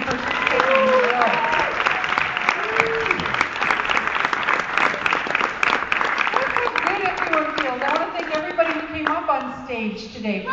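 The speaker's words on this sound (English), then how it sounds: "How about a nice round of applause for everyone for participating in the show?" Audience applause for the participants of a stage show, a full burst of clapping that continues beneath people talking and calling out over it.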